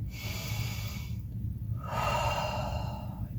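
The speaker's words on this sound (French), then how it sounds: "prendre une grande respiration" A deep breath taken during a home balance workout, a long airy inhale followed by a slower, fuller exhale, close and clear over a low background hum.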